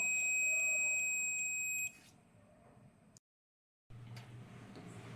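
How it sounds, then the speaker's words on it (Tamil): A steady high-pitched electronic multimeter continuity-test beep sounds for about two seconds, then cuts off, followed by quiet handling noise. "ஒன்றுத்தில் நெகட்டிவையும் இன்னொன்றுத்துலேயும் பாசிட்டிவும் கனெக்ட் பண்ணும் போது ஒரு பீப் சவுண்டு கேட்கும்."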